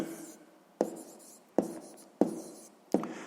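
A pen writes a number in a notebook: four crisp, evenly spaced strokes, each a sharp tap trailing into a soft scratch, close and alone.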